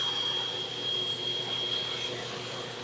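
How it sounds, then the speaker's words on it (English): A duct-cleaning vacuum runs steadily on suction during residential HVAC ductwork cleaning in Las Vegas, producing a continuous loud whine and airy roar with a high steady tone, with no voices over it. "turn on the vacuum. So now we're doing a suction."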